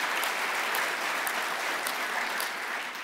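A crowd applauds a great American company, Boeing, with steady, dense clapping that holds at an even, fairly distant level throughout, with no voices.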